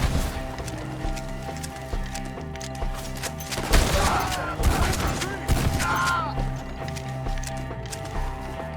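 Gunfire in Red Dead Redemption 2 during a hillside shootout, with repeated sharp shots crackling over galloping hooves and background music while voices shout orders.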